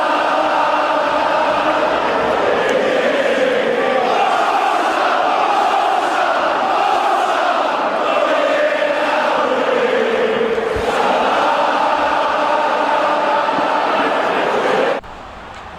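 Football fans in the stands roar loudly and continuously in reaction to a Mohamed Salah goal against Brighton, a dense, sustained crowd noise with swelling cheers, ending abruptly near the close.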